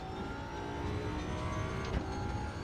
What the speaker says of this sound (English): that little pop when she changes gear sounds nice